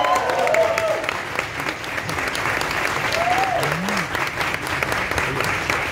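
A conference audience gives sustained applause for a singer at a press event for the Coco festival. The clapping is dense and steady throughout, with faint voices and cheers mixed in.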